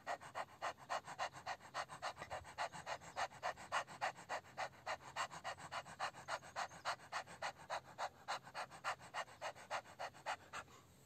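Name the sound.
people imitating a happy dog panting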